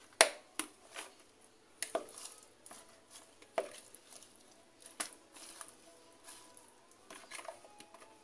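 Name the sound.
stirring pepes tuna filling ingredients evenly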